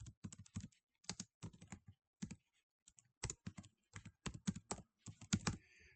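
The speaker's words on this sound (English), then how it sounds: "I'm going to type in House Carpenter" Someone types on a computer keyboard nearby, crisp key clicks in short bursts separated by brief pauses, quiet and alone with no talk.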